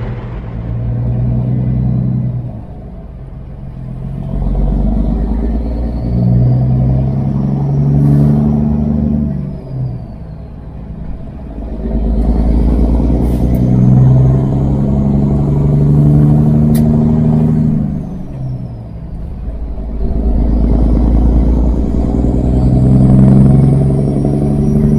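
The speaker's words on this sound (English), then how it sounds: "So let's just go drive the truck." Loaded truck rolling down the highway toward Kansas, a loud steady engine rumble and road roar that rises and falls in long waves, with occasional rattles from the cab.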